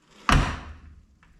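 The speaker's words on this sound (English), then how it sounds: "But the door shuts quite nicely" The door of a 1972 Chevrolet Nova shuts with a single loud, close thud, followed by a short ringing decay and a faint small click just after.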